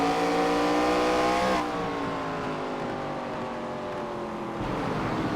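Stock cars race side by side in an elite-division oval event, engines snarling loudly in layered revving tones that shift pitch as the cars hold position together.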